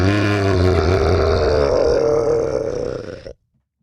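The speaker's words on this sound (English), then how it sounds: "I can do a whole bunch of burps." A person lets out one long, loud, drawn-out burp, croaking steadily close to the mic for over three seconds before it stops abruptly into silence.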